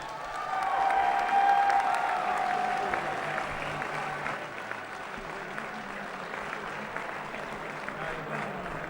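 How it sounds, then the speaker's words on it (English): Festival audience applauding Terry Gilliam at a film Q&A, a broad wash of clapping that swells quickly, peaks early and then continues at a softer, steady level with faint crowd murmur. "give him a big round of applause"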